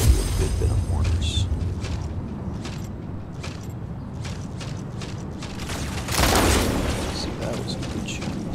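Rocket mortar shots fired in a video game playing as Arachnos, a dense mechanical rumble with repeated short thumps and a louder blast burst near the end, continuous game noise throughout.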